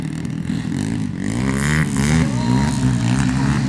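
Racing motorcycles at an expert-category flat track race final in Dulag, Leyte rev hard and close, their engines rising and falling in pitch over a steady roar.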